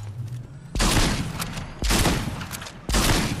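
Three loud bursts of gunfire from a Fortnite match, each a sharp broadband blast that rings out for about a second, spaced roughly a second apart over a low hum.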